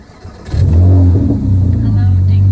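A Porsche Cayman engine starts up and revs hard, a loud, deep steady roar that holds close and strong to the end.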